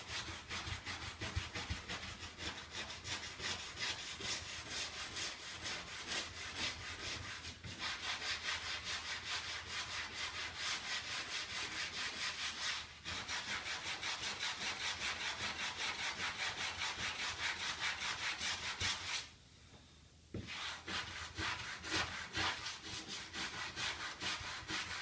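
Rapid back-and-forth brush scrubbing along porcelain tile grout lines, a dense rhythmic scratchy rasp close up, running steadily with a couple of brief pauses.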